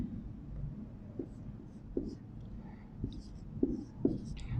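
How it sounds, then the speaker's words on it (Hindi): Pen or marker writing during a Class Nine English lecture, giving faint, soft scratchy strokes with a few sharper taps, quiet and close, with no talking. "मैं यहाँ पे लिखता हूँ"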